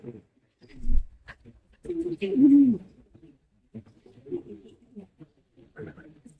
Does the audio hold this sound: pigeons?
yes